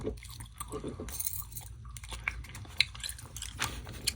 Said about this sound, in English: Do you know which ear I was chewing in?